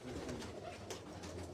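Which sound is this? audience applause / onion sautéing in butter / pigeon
pigeon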